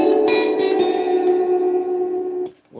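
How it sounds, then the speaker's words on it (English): Electric guitar notes pass through the real spring reverb of a Twin Reverb amp turned to maximum, ringing in a sustained chord with a long, washy, metallic tail, then a short final pluck. "This is the real reverb from the amp."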